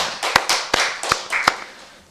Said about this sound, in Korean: 살아계신 하나님께 박수의 영광 드리겠습니다.